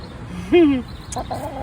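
A silver-laced Wyandotte hen, a big, cold-hardy and heavily feathered chicken, gives one loud, close, drawn-out squawking call lasting under a second, followed by softer clucks against quiet farmyard background.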